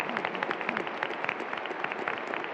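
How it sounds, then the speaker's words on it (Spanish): A crowd claps in a dense, even burst of applause that holds steady throughout at moderate, somewhat distant loudness, with no talk over it. "No tantos aplausos, por favor"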